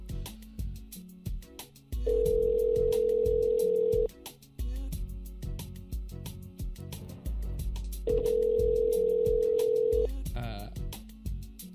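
Repeated ringback tones sound on a telephone line after a call is dialed, two long steady tones standing out clearly while people talk over them and background music plays.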